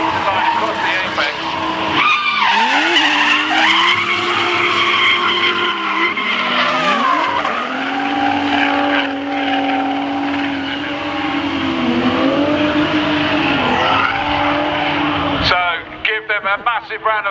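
A white drift car slides through the apex at Castle Combe circuit during a drifting action day, tires screeching loudly and continuously over a roaring engine as it passes close, with a commentator talking over the noise.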